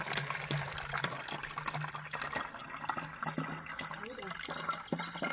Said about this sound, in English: I filled my Pellegrino water bottle.